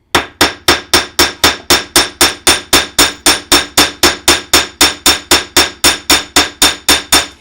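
Metal hammer blows strike a piece of work in a steady, fast rhythm, about three sharp, loud ringing hits per second. The hits run unbroken and close up, with no voices.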